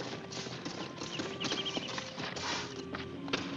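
Horse hooves clip-clop steadily on hard ground as several horses are brought to a halt and tied up, a continuous close clatter with occasional faint snorts and no talk.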